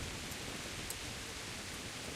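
Rain pours steadily in the video game Kingdom Come: Deliverance, a soft, continuous hiss with no voices, quiet and even throughout.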